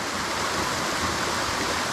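A small waterfall on a wild trout stream in Pennsylvania roars close by as a loud, continuous rushing white-water wash.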